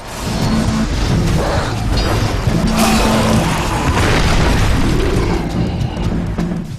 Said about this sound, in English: that explosion was the mine